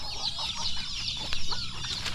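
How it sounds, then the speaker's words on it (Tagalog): Thin, high peeping of turkey and chicken chicks on a farm, rapid overlapping cheeps close by with a soft clucking underneath. "dito may sisiyo ng pabo at manok."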